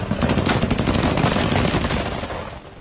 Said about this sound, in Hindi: दोनों देशों के बीच अंधाधुंध गोलियां चली